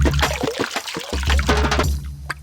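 Water is poured to fill clay drinking pots, a splashing, gurgling stream with uneven bursts over a low steady hum that thins out toward the end.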